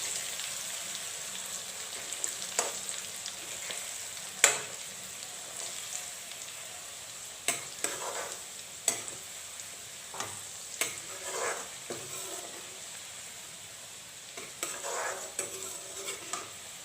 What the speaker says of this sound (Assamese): এতিয়া লৰাই দিম।